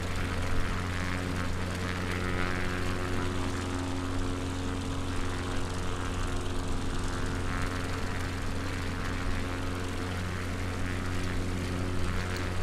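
Steady, loud drone of a light propeller aircraft engine in flight over Blackburn, a continuous hum with strong low tones, heard from inside the cabin with no talking.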